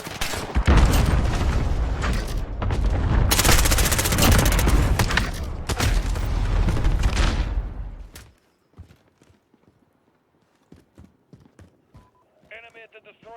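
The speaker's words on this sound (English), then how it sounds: "Cluster strike away." Cluster strike explosions in the shooter Modern Warfare hit as a loud, rapid barrage of overlapping blasts for about eight seconds, then cut off abruptly, leaving only faint scattered sounds and a brief tone at the end.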